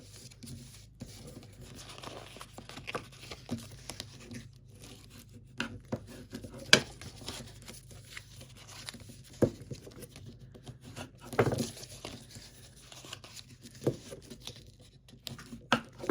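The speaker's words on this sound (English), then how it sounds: "So you're going to want to go ahead and fold on all your score lines." Scored cardstock for an Easter bubblegum-machine treat box is folded along its score lines, giving soft, close, intermittent creasing and rustling with small sharp crinkles in an otherwise quiet room.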